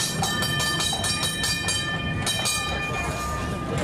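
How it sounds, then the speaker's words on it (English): A Disneyland park train rolls along with steady rhythmic clickety-clack from the rails, regular wheel beats over continuous rumble, with a faint whistle-like tone riding on top and a light background hum. "So we're going on the train."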